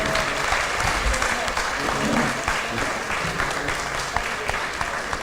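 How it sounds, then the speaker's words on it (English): Loud, sustained applause from an audience honoring the judges at a business case competition final, steady clapping throughout with a voice speaking over it. "please do give a big round of applause to the honorable judges"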